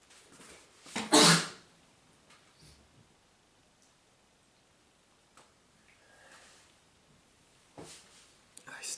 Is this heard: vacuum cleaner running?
no